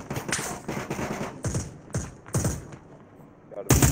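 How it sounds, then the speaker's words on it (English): Gunfire in the virtual reality shooter Onward, played on a Quest 2 headset, comes as several sharp, loud bursts of rapid shots with short pauses between them and a final loud volley at the end. "I'm hearing gunfire"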